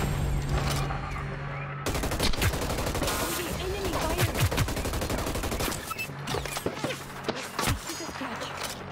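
Rapid bursts of enemy automatic gunfire in the video game Hyper Scape, dense and loud throughout with sharp cracks and clattering shots, game effects layered over the fire.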